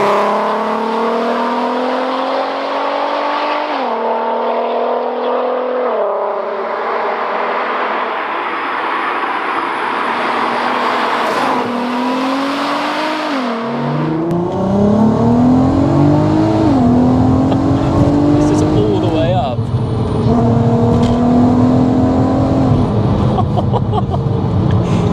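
A supercharged Mk5 VW Golf R32 with a self-built tubular manifold, making about 450 bhp, revs loudly and steadily. The pitch rises and dips through gear changes, and the engine grows heavier and louder partway through.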